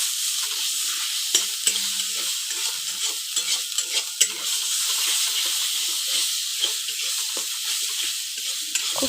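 Pumpkin leaf paste fries in hot oil in a wok while being stirred, a steady close sizzle punctuated by repeated scraping and knocking strokes of the spatula, no talking.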